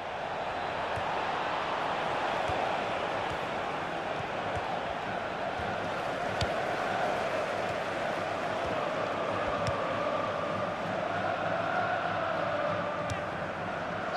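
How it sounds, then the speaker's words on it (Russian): A dense roar of stadium crowd noise in the video game FIFA 16, football fans shouting and chanting blending into a constant loud wash, with no pauses. "Болельщики перекрикивают нас."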